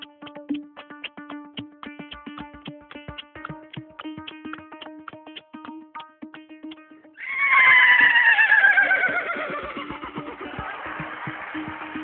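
A voice mimics horse hooves with rapid rhythmic clicking, then breaks into a loud, wavering imitation of a horse's whinny.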